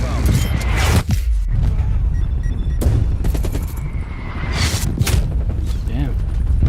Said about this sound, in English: Hostile artillery inbound.